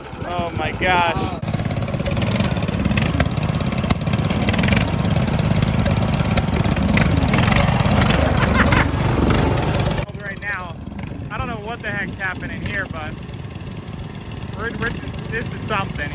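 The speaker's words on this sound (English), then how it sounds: "The tractor makes a bunch of noise and stuff like that" A tractor engine runs loud and steady for about ten seconds while people talk over it. It then drops to a lower rumble under continued chatter.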